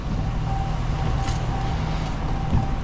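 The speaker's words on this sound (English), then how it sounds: "yes, you can hear the exhaust" Steady low rumble from a 5.7 liter Hemi V8 exhaust on a Dodge Ram 1500 pickup while driving at night, an even drone with road noise and no sharp revs.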